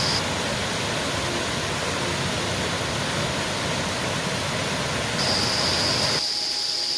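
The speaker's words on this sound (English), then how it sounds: "I found a little waterfall on a Trib like I was thinking." A small waterfall on a creek tributary in a national park rainforest pours steadily close by, a dense even rush of falling water with no voices.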